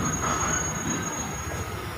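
Oil tanker express freight train pulling out of a station, wheels squealing steadily with a continuous rumbling rail noise, fairly close and alone.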